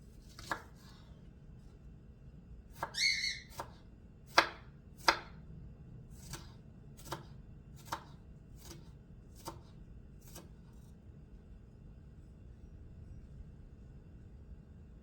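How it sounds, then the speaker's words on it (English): A knife chops shallots finely on a cutting board: about a dozen sharp, distinct strikes, clustered at first and then spaced at a steady rhythm, close and fairly loud over a low background hum. "And we're going to need 1 teaspoon of finely minced shallots. This one will more than likely do it. So let me chop this up."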